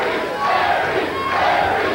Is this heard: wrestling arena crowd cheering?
yes